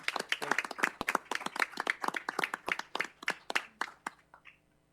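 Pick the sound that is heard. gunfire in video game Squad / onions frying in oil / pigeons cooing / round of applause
round of applause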